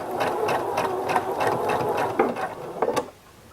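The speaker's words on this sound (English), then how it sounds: "And then, of course, you would just keep on stitching." A sewing machine stitches fabric with pompom fringe, its needle chattering in a fast, steady mechanical rhythm up close, then slowing and stopping near the end.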